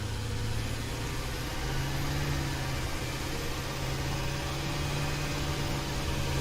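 A tractor engine in the factory-building video game Satisfactory runs as a steady, industrial mid-pitched drone under a constant noisy hiss, close and even throughout.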